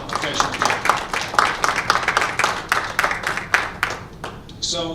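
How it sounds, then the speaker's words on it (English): Audience applause at a school district board meeting, a steady patter of many hands clapping through most of the stretch with talk mixed in, fading out near the end. "if we could just give them a round of applause"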